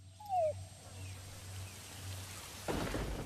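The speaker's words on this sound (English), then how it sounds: "our intel unit is reporting rain approaching our vicinity" Rain weather effect in Metal Gear Solid V: The Phantom Pain, a steady hiss of rainfall with a low rumble, building into a heavier downpour near the end.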